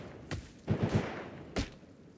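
Gunfire in the survival video game Rust: three sharp shots spaced apart, the middle one a quick cluster of several rapid reports, moderately loud against a low background hiss with no speech.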